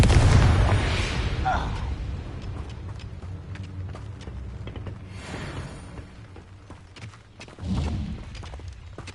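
A Confringo spell in Hogwarts Legacy bursts with a heavy booming explosion, followed by a rumbling decay and a second softer thud, with a voice heard briefly.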